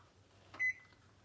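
A kitchen microwave oven gives one short electronic beep as its buttons are pressed, clear against a quiet low hum.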